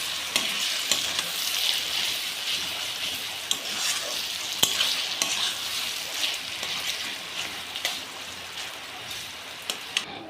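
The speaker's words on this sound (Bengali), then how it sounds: "সেই বিচিগুলো তো এখন ভালো করে এগুলোকে মিশিয়ে নেব" A paste of ground bitter gourd seeds and spices is stirred in a pan, giving a steady close sizzle with scattered scraping clicks from the spoon throughout.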